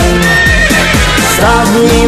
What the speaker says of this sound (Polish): koń konia goni po zielonej łące